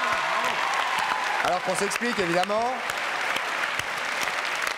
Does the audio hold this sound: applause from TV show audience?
yes